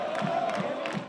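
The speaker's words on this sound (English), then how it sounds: "The roar of the crowd echoed from wall to wall the entire game." A stadium crowd at a soccer match at Subaru Park in Philadelphia roars in a steady, dense wash of voices with rising cheers and whoops, loud and sustained throughout the short moment.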